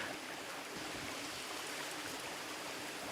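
The river near Parker, Arizona flows with a steady, even rush of water, constant and moderately faint throughout, with no voices.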